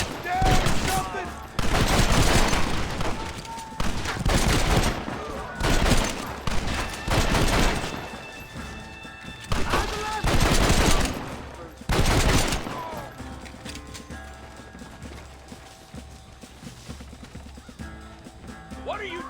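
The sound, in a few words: gunfire in a Red Dead Redemption video game cutscene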